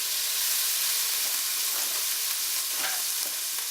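Meat and garlic searing in a hot paella pan, a loud, steady sizzle and crackle that fills the space without a break, close up, with no voices.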